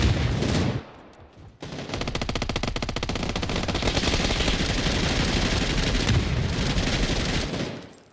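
Rapid automatic gunfire from a Splitgate 2 match, loud and close, rattling in long dense bursts after a brief lull near the start, with a few heavier impacts mixed in.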